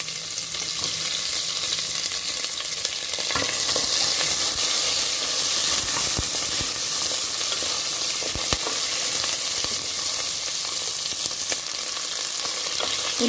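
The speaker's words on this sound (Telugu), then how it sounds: "ఉల్లిపాయ ముక్కలు ఈ విధంగా వేగినప్పుడు" Chopped onions and dried red chillies fry in a pan, a loud, steady sizzle and hiss close by, broken by several sharp stirring knocks against the pan, with no talking.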